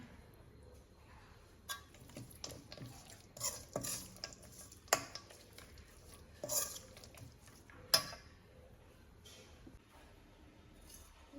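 Rice being stirred with lemon juice in a pan, scattered clinks and scrapes of a spoon against metal with quiet gaps between strokes.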